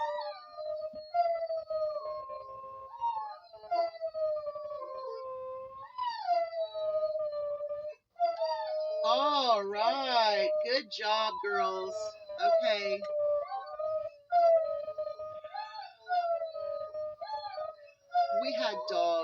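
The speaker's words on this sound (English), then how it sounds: "We trained them to howl" Dogs trained to howl at a passing train howl in long, wavering tones that rise and fall, several voices overlapping, while someone talks encouragingly between and over the howls.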